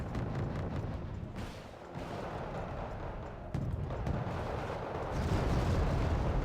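Infantry combat inside towns in Wargame Red Dragon, with a dense, continuous rumble of gunfire and explosions that grows louder toward the end.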